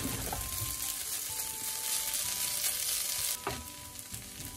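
Food sizzles in an oiled frying pan while browning, a steady, close crackling hiss with small pops and light clinks, no voices.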